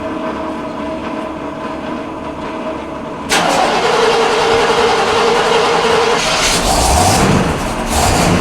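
An old car, likely carbureted with a new battery, starts in cold weather: steady cranking-level noise gives way at about three seconds to a sudden loud catch and a sustained running engine roar close by.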